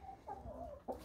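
Hen clucking on a Romanian poultry farm, the bird hatched in 2013; a few short, close clucks and soft cackles in a run, with a sharper cluck at the end.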